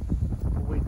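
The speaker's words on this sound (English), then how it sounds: "It's a bit very windy still." Steady wind buffeting the microphone, a loud low rumble with gusting swells throughout the short stretch.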